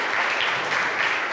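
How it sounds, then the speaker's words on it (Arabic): A congregation at a first-communion Mass claps strongly, a dense and steady round of applause held at full loudness throughout. "صفقوا لهم صفقة قوية"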